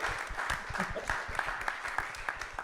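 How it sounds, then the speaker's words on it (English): A small audience gives brief, scattered applause at a music community gathering. The clapping is moderate and close, with light voices underneath. "can we actually get a little round of applause for Piñata for hosting us"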